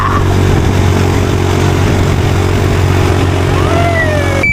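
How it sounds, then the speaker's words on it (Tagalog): A motorcycle engine runs steadily nearby with a low, even drone and slight revving, holding a constant level throughout with no speech. "Ganda ng motor ni Akla!"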